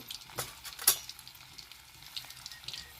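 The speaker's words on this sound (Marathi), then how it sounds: "तेल चांगलं तापलंय आता मी लसूण टाकी ते लसूण टाकल्यानंतर ना एक चमचा जिरे" Garlic and cumin seeds sizzle softly in hot oil for a tempering, with a steady crackling hiss. A faint clink of a spoon against the pan cuts through near the start.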